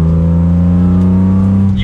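A 1996 BMW M3 E36 with a manual transmission, its engine droning loud and close while driving, holding a steady engine tone that climbs gently as it revs.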